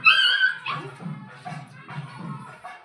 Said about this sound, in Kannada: ಎರಡೂ ನಾಯಿಗಳನ್ನ ತೊಳಿಸ್ತಾ ಇದ್ದೀನಿ